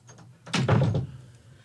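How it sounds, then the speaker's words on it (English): A door swings shut indoors with a single solid thump and brief rattle, fairly close and loud against a quiet room, with faint low hum before and after. "Door successfully closed, so that we may speak in peace."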